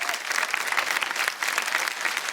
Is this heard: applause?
yes